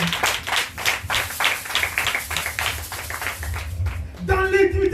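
A church congregation claps in a steady rhythm while acclaiming Jesus, dense hand claps with voices mixed in, ending in a sustained sung or shouted voice.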